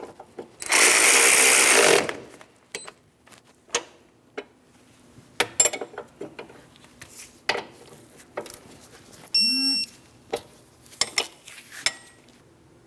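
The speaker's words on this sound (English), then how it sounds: "go ahead and snug it up and torque it to 44 foot-pounds" Ball joint nut on the front upper control arm of a 2003-2007 Cadillac CTS being snugged and torqued, a brief loud power-tool whir followed by scattered metallic clicks and ratcheting taps, close up.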